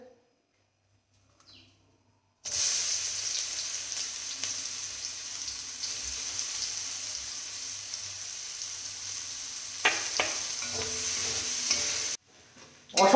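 Hot oil sizzling steadily in a pan, starting abruptly after near silence and holding at moderate loudness, with a few clatters near the end before it cuts off.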